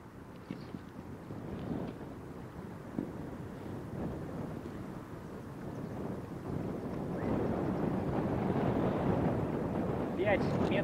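Outdoor wind at a kite-flying field buffets the microphone in low, rumbling gusts that build gradually and grow louder toward the end, with a voice occasionally audible beneath the roar.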